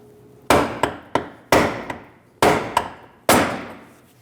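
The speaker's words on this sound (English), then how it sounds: "We're going to use a brass punch and remove our fuel lock ring." Sharp metallic strikes of a brass punch driven by a hammer against the fuel pump lock ring on a 2016-2025 Chevrolet Malibu 1.5L, loud and close, with heavy blows roughly every second, each followed by a lighter rebound tap.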